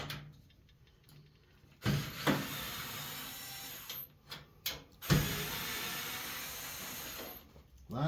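Screws come out of the back cover of a clothes dryer, with a power driver whirring in short bursts and faint metallic clicks between them, close up and fairly quiet.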